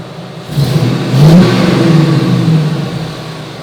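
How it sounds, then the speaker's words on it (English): A 1969 GMC K15 truck engine revs up once and holds, a loud, close, deep rumble that swells and then settles back toward idle. "Here are a couple of revs."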